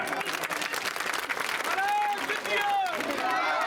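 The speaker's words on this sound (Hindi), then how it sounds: "तालियों की गड़गड़।" Crowd applause at an outdoor election rally in Haripur during the 2024 Lok Sabha campaign, a dense roar of clapping and cheering with a few whistles rising through it, loud and sustained throughout.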